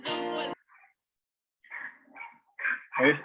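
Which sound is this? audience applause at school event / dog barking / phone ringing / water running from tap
dog barking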